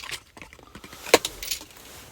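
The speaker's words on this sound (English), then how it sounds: "So there are 2 keys." Keys for a 2015 Ford Transit Custom 2.2 TDCI van jangling close by, a short burst of metallic clinks with one bright rattle in the middle.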